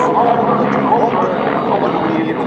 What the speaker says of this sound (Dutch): Het is een Duitse helikopter natuurlijk